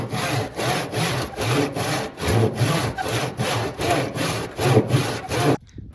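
A handsaw cuts through the trunk of an old tree, roughly 200 years old, in steady back-and-forth strokes with a rasping rhythm, close and loud, before the sawing stops abruptly near the end.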